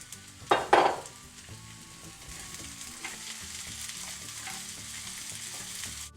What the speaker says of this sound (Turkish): Soğanlar kavrulduktan sonra sapları da atıyorum.